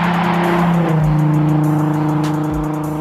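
A Nissan 370Z NISMO driving, its engine droning loud and close with a steady low hum, pitch shifting slightly as the car moves, with a couple of brief low thumps from the road.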